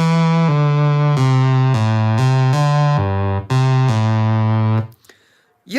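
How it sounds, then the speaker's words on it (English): A raw sawtooth wave from a Minimoog analog synthesizer, a rich buzzing tone moving through a run of sustained notes that stop abruptly near the end, loud and alone. "the same sawtooth here on a Minimoog sounds like this"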